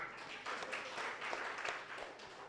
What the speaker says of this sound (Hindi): आपके लिए तालियां।